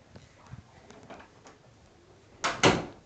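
A bathroom door swings shut in a house, ending in two sharp, close knocks of the closing and latching after a few quieter taps and shuffles.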